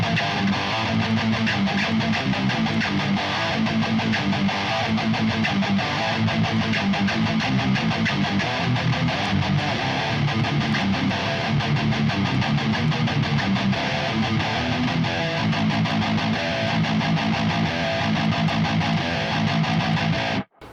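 A heavily distorted electric guitar through a Blue Cat's Axiom amp simulator chugs and rings out chords on a low A, dense and loud, playing continuously for about twenty seconds before stopping abruptly.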